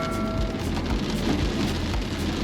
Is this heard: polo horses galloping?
no